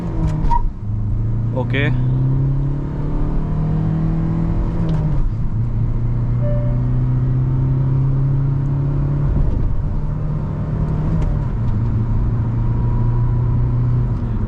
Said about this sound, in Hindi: तो अभी जब अपन स्टार्ट करते हैं और फर्स्ट गियर में डालता हूँ, सबसे पहले अपन इसकी परफॉर्मेंस टेस्ट करते हैं